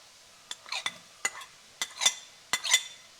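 Chopped onion and garlic sizzle in a hot pan while being stirred, with four distinct scraping clinks of a utensil against the pan, each followed by a brief sizzling burst, close and fairly quiet with no talking.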